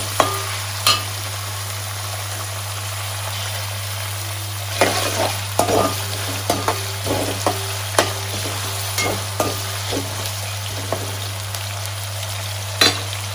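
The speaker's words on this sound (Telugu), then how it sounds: "ఇవి హీట్ ఎక్కిన తర్వాత అందులో ఆనియన్స్ వేసి ఫ్రై చేసుకోండి" Sliced onions sizzle in hot oil with biryani spices in a kadai, a constant loud frying hiss broken by repeated scraping stirs and clinks of a spoon against the pan, with no one talking.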